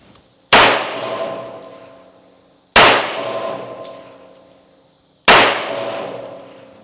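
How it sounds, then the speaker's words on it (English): Three loud, sharp Hi Point JHP 45 pistol shots in .45 caliber ring out alone at an outdoor target range, evenly spaced about two and a half seconds apart, each with a metallic clang from the struck target decaying behind it. "this is my first time shooting 45, and it's my first time definitely shooting a Hi Point 45"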